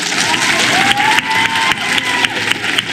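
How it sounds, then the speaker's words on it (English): A crowd at a motivational talk about bullying and sports breaks into steady applause, dense clapping mixed with a few cheers and whoops throughout, loud and close, with sharper bursts of claps rising now and then. "You guys better give them a round of applause"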